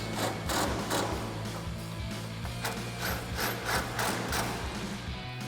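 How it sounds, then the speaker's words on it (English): Ratchet with an 18mm socket and extension tightening grille guard mount bolts on a Silverado 1500, a run of quick rhythmic clicking strokes close by over a low steady hum. "take an 18mm socket and extension to tighten those down"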